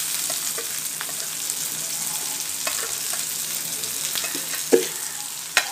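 Ginger and garlic frying in a pan for a chutney, a soft steady sizzle with occasional crackles and stirring scrapes, two sharper pops near the end.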